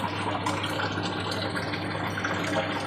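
Water gushes steadily into a Samsung washing machine as it fills, a constant close rushing hiss with no talking.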